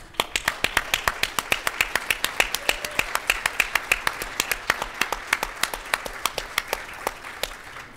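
Sparse, evenly paced clapping at a live podcast taping, crisp individual claps in a steady rhythm with little crowd behind them, close and moderately loud.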